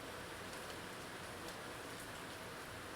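Tropical rain falls steadily as a soft, even hiss with no breaks, faint and diffuse, with no voices over it.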